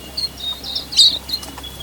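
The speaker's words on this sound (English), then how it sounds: "Hear that chatter of the birds as they feed?" Tasmanian silvereyes chatter as they feed, giving soft, thin, high chirps in a brief scattered run over a faint background.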